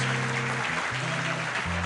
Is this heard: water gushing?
no